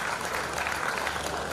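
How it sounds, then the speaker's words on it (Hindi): Loud, steady applause from an audience at a dedication ceremony, a dense continuous patter of clapping hands that fills the whole moment without letup. "जोरदार तालियों से"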